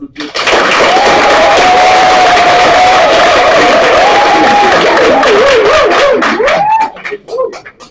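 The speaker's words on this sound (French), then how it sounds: "Est-ce que nous pouvons applaudir?" A church congregation breaks into sustained, loud applause and cheering for several seconds, with a single voice holding a long sung or shouted note above it. The clapping fades near the end and speech follows.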